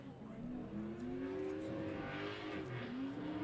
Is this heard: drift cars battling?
yes